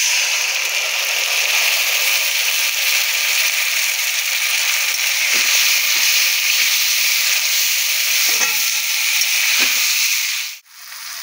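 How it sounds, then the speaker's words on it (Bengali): Onions sizzle in a kadai for a chicken-leg curry, a loud, steady hiss that runs for several seconds with a few faint scrapes of stirring, then drops away suddenly near the end. "পেঁয়াজটা একটু ভাজা ভাজা হয়ে গেছে"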